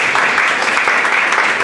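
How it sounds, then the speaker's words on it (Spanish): Loud applause welcoming a speaker to a lecture hall, a thick continuous wash of clapping from a large audience, close and even throughout. "Lo vamos a recibir con un fuerte aplauso."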